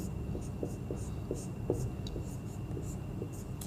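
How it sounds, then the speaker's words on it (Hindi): A pen scratching on paper in quick, repeated strokes, soft and close, with a faint steady hum behind it. "और यहाँ लिखेंगे हम"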